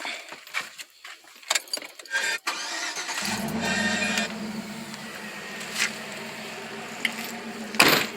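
A truck engine cranks and catches after clicking and key sounds, then settles into a steady idle that runs on, close by, with a few sharp clicks over it; the engine is warm and being checked around a throttle body coolant hose bypass.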